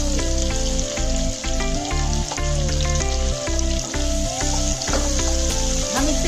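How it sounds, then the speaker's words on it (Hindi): Long-sliced onions fry in oil, a loud, close, steady sizzle with regular knocks and scrapes of a spoon stirring the pan, and no talking. "हम इसे अच्छे से भूनेंगे तेल में।"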